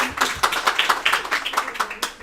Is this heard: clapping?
yes